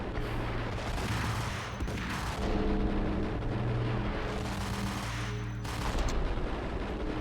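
Gunfire in Max Payne during diving shootouts, dense bursts of loud rapid shots mixed with booming impacts and sweeping whooshes, close and continuous with no voices.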